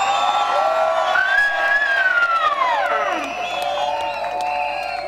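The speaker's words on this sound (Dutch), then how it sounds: "Niet alleen klappen, je mag ook stampen, schreeuwen, roepen, alles voor de vrijwilligers." A large crowd on a town square cheers for the volunteers at a Mini 80 event, a loud, continuous wall of shouting and whooping with clapping and stomping mixed in, steady and intense throughout.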